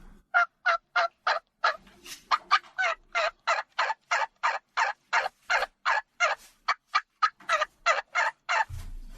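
A hunter imitates a hen turkey with a call, a rapid series of about two dozen sharp, evenly spaced yelps rising in urgency, loud and close with silence between notes.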